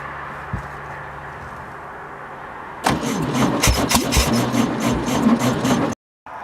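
A 1966 VW Beetle engine turns over with a weak starter, cranks briefly and then catches, running roughly and loudly with a chugging pulse for a few seconds before cutting off abruptly.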